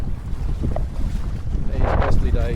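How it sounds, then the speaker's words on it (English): Gusty wind buffets the microphone during a wing foiling session on Pittwater, a steady rumbling roar that swells louder toward the end, with water sloshing underneath. "A little bit of wind about."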